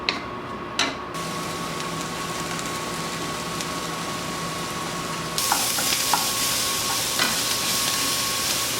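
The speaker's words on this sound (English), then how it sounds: "Now I'll add my ground beef in." Ground beef hits a pan of onion and garlic cooking in olive oil, a steady sizzle that swells louder and brighter partway through, with a few light clicks and scrapes.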